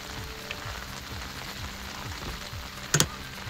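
Steady rain pattering on a surface beside a river during early-morning crucian carp fishing, a continuous soft hiss with a brief louder splash or knock near the end.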